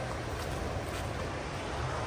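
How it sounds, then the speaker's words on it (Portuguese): Water rushing down a waterfall stream on a farm, a steady loud broadband roar with no pauses and no voices. "o barulho da água é forte, hein?"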